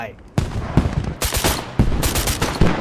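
Bursts of automatic gunfire in the military shooter game Squad, several sharp volleys in quick succession with loud broadband cracks, close and punchy, with brief pauses between strings of shots.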